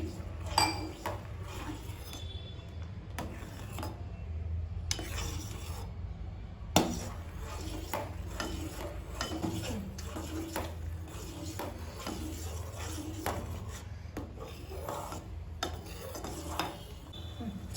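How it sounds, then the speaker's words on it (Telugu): A spoon stirs a fruit salad mixture in a pan, giving faint, steady scraping and occasional clinks against the metal. A low background hum runs underneath. "కలుపుతూనే ఉండాలి ఎందుకంటే మనకు అడుగంటుంది"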